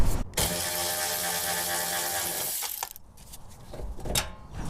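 A hand wrench works on a 12 mm bolt holding a CBI dual swing arm rear bumper, a steady close whirring ratchet drone lasting a few seconds, then a quick click and a couple of brief metallic knocks, with no voices.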